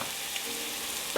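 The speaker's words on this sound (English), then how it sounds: "Then in goes my flour, and this is the part where we're making a roux." Flour cooks in melted butter in a pan for a roux, giving a soft, continuous sizzle with a brief scrape of stirring at the very end, close up and without talk.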